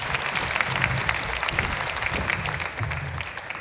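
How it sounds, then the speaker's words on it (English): An audience claps through a talk event on loneliness and addiction, a dense, even patter of many hands heard close and sustained throughout. "I think we need to try harder with a round of applause to thank Chris Doucette"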